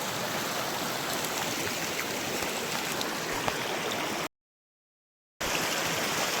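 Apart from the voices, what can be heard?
flowing stream water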